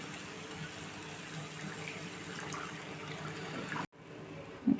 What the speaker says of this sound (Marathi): हे मिक्सरच्या भांड्यामधलंच पाणी टाकत आहे मी